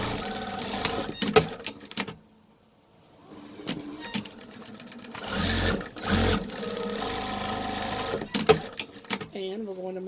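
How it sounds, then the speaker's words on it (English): A sewing machine stitching side and bottom seams in denim fabric for a fabric Easter basket, sounding in short bursts of whirring mixed with handling noises and a pause, with a person talking over parts of it. "We're going to sew it up completely up on both sides and the bottom."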